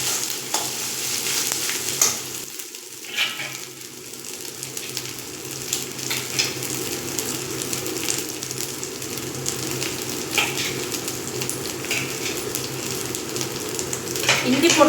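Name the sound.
ginger garlic paste sautéing in a pan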